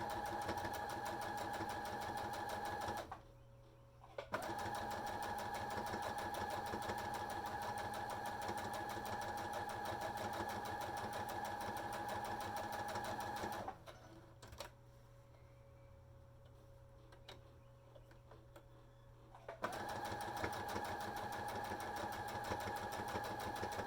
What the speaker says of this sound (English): I'm just doing a straight stitch on this as well.